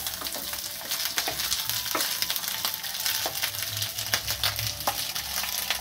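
Rice with peas and cashews sizzles in a hot pan, a steady close frying hiss broken by repeated scraping stirs of a spatula, with no voices.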